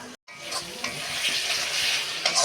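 Spice paste for a rohu fish head curry sizzles and fries in a pan, a steady crackling hiss with scraping stirs throughout, close and moderately loud after a brief silent gap at the start.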